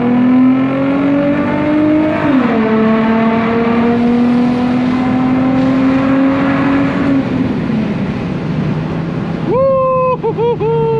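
An Infiniti G35 with a loud exhaust accelerating hard at night, the engine note climbing and shifting through gears in a close, continuous roar, with a whooping voice over it near the end.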